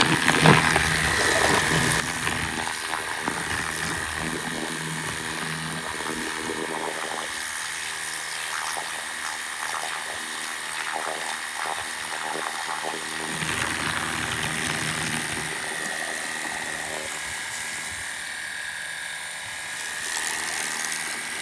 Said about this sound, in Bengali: মানে এটাতে অরিজিনালি যে প্রেশার দেখতেছেন মূলত কারওয়াশের এরকমই প্রেশার হয়।